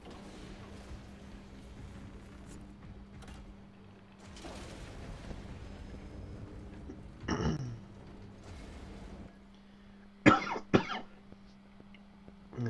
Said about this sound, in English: Excuse the cough again.